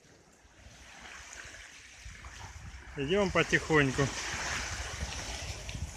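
Steady wash of sea surf breaking on the shore of the Dzharylhach spit, moderately loud, with a person speaking briefly over it midway.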